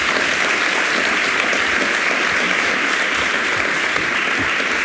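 Warm applause from an audience thanking speakers after a talk on the political history of Shell, a full, even wash of clapping that holds at constant loudness from start to finish.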